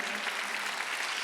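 Congregation at a Sunday church worship service breaking into steady, dense applause that fills the whole short stretch at an even, moderate level.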